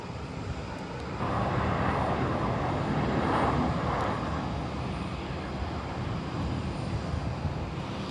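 A British Airways plane takes off from Heathrow Terminal 2, heard as a steady distant jet engine roar that swells in after a quiet start, peaks midway and holds, with no talk over it.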